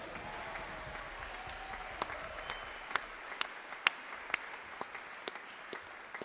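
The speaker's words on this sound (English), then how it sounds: "Give him a round of applause." Scattered clapping from an audience at a big band concert, a series of distinct handclaps of uneven rhythm, moderately near, with faint murmuring underneath.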